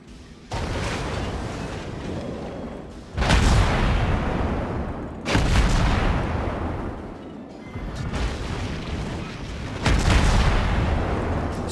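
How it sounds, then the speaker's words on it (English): Heavy booming launches and blasts from a naval battle in World of Warships, with several loud, low-rumbling bursts spaced a few seconds apart, each decaying slowly into a dense roar. "So now I'm going to bring up torpedoes, launch a spread of torpedoes"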